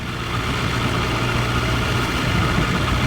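Close, loud, steady drone of a BMW S1000 RR motorcycle engine under way while riding, holding an even pitch throughout with no speech.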